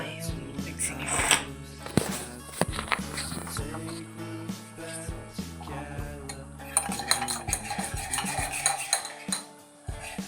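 Cutlery stirring and mixing in a dish, with repeated close clinks and scrapes of metal against the dish in uneven bursts that thicken toward the end, over soft indistinct room sound.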